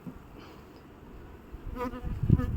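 Honeybees buzz steadily close by at an open hive during frame handling, the droning hum swelling louder toward the end, with a few low thumps and handling noises.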